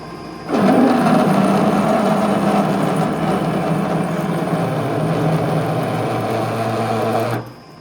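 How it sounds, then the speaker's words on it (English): Metal lathe boring out a part with a boring bar, a loud steady mechanical whir that starts abruptly, holds for about seven seconds with a slight pitch drop, then cuts off. "And then I'll finish boring it with a boring bar to size."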